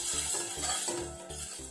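A tablespoon of pigeon pea lentils is dry-roasted in a pan with rhythmic stirring, giving soft repeated scrapes and light clinks of the spoon against the metal, close and moderately quiet.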